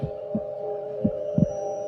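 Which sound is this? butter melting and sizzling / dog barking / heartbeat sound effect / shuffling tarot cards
heartbeat sound effect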